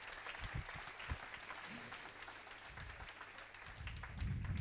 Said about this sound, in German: Ich darf gleich einmal bitten um einen Applaus für die Technik